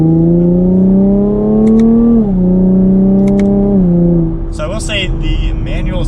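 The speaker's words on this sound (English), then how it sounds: "We'll just give it a little bit of an acceleration using the paddle shifters." A 2020 Chevrolet Camaro 1LT RedLine Edition in sport mode pulls hard under paddle-shift acceleration, its engine note rising in pitch, dropping at a quick upshift, climbing again, then easing off as a voice speaks near the end.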